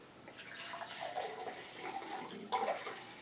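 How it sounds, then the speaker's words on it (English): Ginger juice from several juicers being poured into glasses, a close, continuous liquid trickle and splash with a louder burst near the end. "we're going to go ahead and pour those into glasses for you guys"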